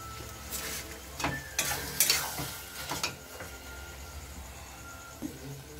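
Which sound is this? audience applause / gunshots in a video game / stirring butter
stirring butter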